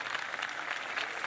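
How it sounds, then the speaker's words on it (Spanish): Steady, moderately distant audience applause in an honour ceremony hall, a soft continuous wash of clapping for María Elena Walsh. "una aplaudirla bien fuerte"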